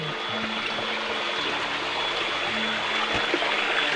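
A waterfall near Gua Rincing cave in Boyolali, a steady broadband rush of falling water close by, with faint low hums and brief knocks beneath it.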